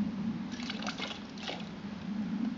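A small splash of water poured into a pot for cooking on a Bushbuddy wood camp stove, giving a brief soft liquid trickle and drip that sits close and quiet against a steady low background hum.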